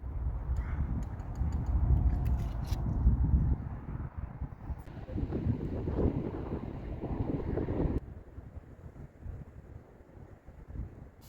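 Strong wind gusting across a rainy campsite, steady roaring buffeting against the microphone that swells and then drops to a lighter rushing after a few seconds.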